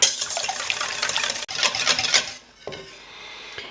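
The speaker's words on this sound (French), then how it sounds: "les 2 œufs entiers et le jaune d'œuf. Et je viens battre à nouveau." Two whole eggs and an egg yolk are beaten briskly in a bowl for cannelé batter, a continuous close whisking clatter that pauses briefly, resumes, then fades to a softer swirl.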